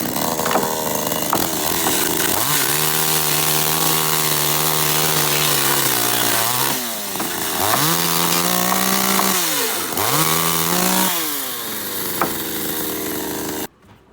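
A loud chainsaw revs and bites into wood, its pitch dropping under load and rising again between several cuts, close and continuous.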